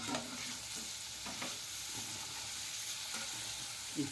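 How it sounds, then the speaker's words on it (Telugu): Onions tossed into a frying pan for a fish curry and stirred, giving a steady close sizzle with scraping stir strokes at a loose rhythm throughout, and no talking. "ఇప్పుడు ఆనియన్ వేసేస్తున్నాం కలుపుకోవాలి"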